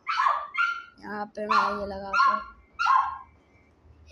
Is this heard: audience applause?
no